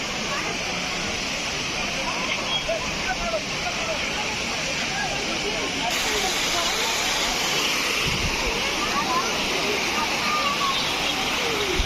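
The main falls at Courtallam make a steady, broad rushing roar of falling water that runs unbroken throughout, close and fairly loud. Voices are faintly mixed in underneath.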